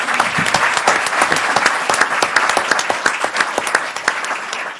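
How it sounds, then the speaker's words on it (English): An audience at a local officials' event gives a lively round of applause, with sharp individual claps standing out over a steady crowd wash. The clapping is loud and close and continues throughout. "Give her a round of applause."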